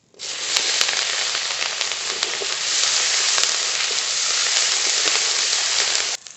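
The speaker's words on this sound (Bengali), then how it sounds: "আজকে মাছের তেলেই রান্না করব অনেক তেল বেরিয়েছে ফোড়ন করে নেব গোটা জিরে ফোড়নে পেঁয়াজ কুচি" Chopped onion and whole cumin hit hot fish oil left from frying pangas, bursting into a loud, dense, continuous sizzle right up close that holds steady for several seconds and then stops abruptly.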